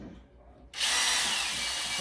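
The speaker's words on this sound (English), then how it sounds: "if you just take the drill and go" A power drill whirs loudly and steadily, clearing plastic, starting abruptly after a brief quiet moment and running continuously to the end at close range.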